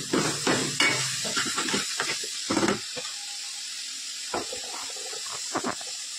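Garlic and coriander paste hits a hot pan for fish masala and sputters in bursts, with clattering stirring strokes early on and a softer, steady hiss later. No one speaks.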